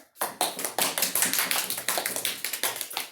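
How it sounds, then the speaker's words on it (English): A classroom of students claps for a classmate, a fast run of sharp, distinct claps that continues steadily without talk. "Would you give her a big round of applause?"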